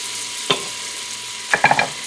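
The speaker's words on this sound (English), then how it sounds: "I have my pan on saute, and it is already registering hot. So you can see that the butter is melting nicely." Butter melting in an Instant Pot on the saute setting, a soft steady hiss with a single sharp scrape, then a quick cluster of small clicks and pops near the end, close and quiet.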